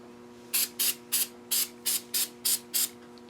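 Short bursts of aerosol rust inhibitor and lubricant sprayed onto machine skates, eight quick hissing sprays in a brisk rhythm over a low steady shop hum, close by, no talking.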